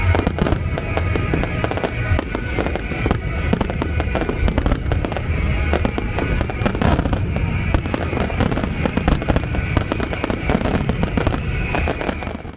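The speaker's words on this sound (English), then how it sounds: "this time we got to see a fantastic firework display" Continuous fireworks exploding in the Mayenne region of France, dense overlapping booms and crackles that keep going without a break, loud and fairly close.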